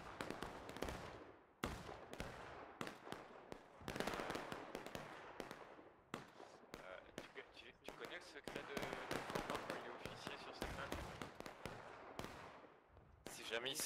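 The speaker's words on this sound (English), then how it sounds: "Looks like they're doing some counter battery right now." Counter-battery artillery fire in the multiplayer Civil War game War of Rights: repeated booming cannon blasts and crackling volleys, loud and dense, one after another across the whole span, with a commentator talking over them.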